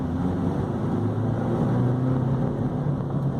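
A 2005 Chevrolet Corsa Sedan's 1.8 engine revs high, heard from inside the cabin as a steady, loud, droning hum with wind and road rumble and no talking.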